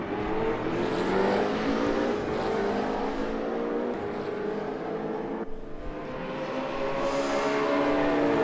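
A BMW Alpina and a BMW Z4 GT3 race car drone steadily in RaceRoom at Spa-Francorchamps, engines roaring at high revs with rising and falling pitch as gears shift, loud and continuous with no talk.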